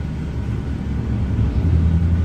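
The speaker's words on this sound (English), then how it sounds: "And that's the engine spooling up," An Airbus A350 jet engine spools up in Microsoft Flight Simulator as a steady low rumble and whir, growing slightly louder throughout, with no talk.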